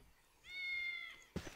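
A cat in the fantasy role-playing game Baldur's Gate lets out one drawn-out, rising meow lasting about a second, followed by a soft thump, fairly quiet and without talk.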